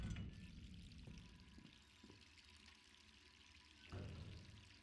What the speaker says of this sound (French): c'est une manie de laisser son robinet ouvert tout le temps.